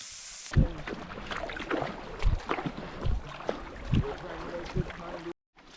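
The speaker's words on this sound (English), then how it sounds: "You can really hear the sand now scraping on the bottom of the boat." Gritty scraping bursts of sand under a canoe hull on the Yukon River, several irregular rasping scrapes with water noise, close by, with faint talk in the background.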